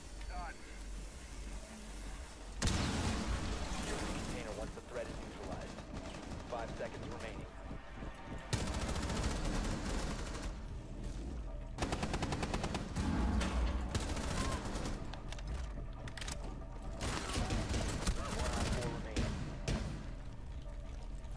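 Sustained gunfire in the Rainbow Six video game, dense rattling bursts that kick in after a quiet start and keep going with short breaks, loud and close, while a player's voice talks underneath.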